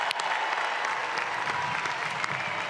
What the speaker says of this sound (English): join me in giving the class of 2026 a congratulatory round of applause